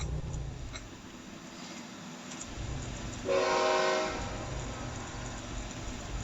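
A loud train horn in the Rigs of Rods video game blares for about a second amid steady game-like rumble and background noise, then fades back to the ambient din.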